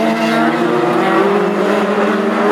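Hot rod race cars roar past during a heat at Aldershot, a loud, continuous engine drone with shifting pitch as several cars sweep by close in succession, no talk over it.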